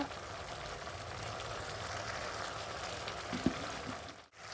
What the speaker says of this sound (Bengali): আমি সুন্দর করে কষিয়ে নেব যাতে কাঁচা গন্ধটা না থাকে